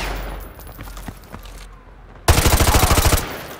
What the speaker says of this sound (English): Roach, take the shot. Open his leg.